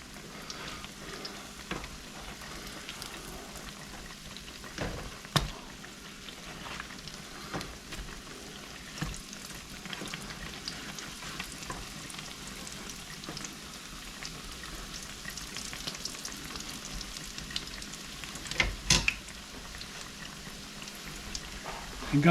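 Slices of bread fry in hot oil in a skillet, about four at a time. They give a soft, steady crackle and sizzle at moderate distance, with a few sharper pops and utensil knocks and no talking.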